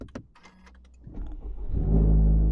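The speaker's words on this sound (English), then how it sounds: "Let's start the engine." A car engine cranks and catches, its low rumble building into a steady, loud idle after a few brief clicks and rattles at the start.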